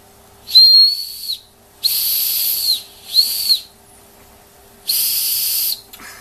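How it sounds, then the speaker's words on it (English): Four shrill, steady whistle blasts from a restored Bing 130/234 toy steam engine, each lasting under a second, separated by short pauses; close and fairly loud with a hissing edge. "Yeah, the whistle's sounding."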